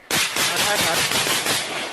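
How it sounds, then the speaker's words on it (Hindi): Heavy, rapid gunfire crackles in dense, continuous bursts during a firefight at the Venezuela–Guyana border, loud and close with no pauses across the whole stretch. "आगे बढ़ते ही फिर से ताबड़तोड़ गोलियां चलने लगती हैं"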